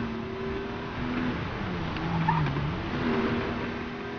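Car driving in Need For Speed Most Wanted (2012 PC), a steady engine drone with shifting pitch and rising revs, heard continuously and fairly loud.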